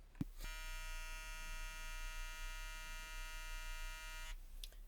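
A Stylecraft Instinct cordless hair trimmer runs with a steady, high-pitched electric motor whine, switched on after a brief click and holding an even, fairly loud buzz for about four seconds before cutting off, with no talk.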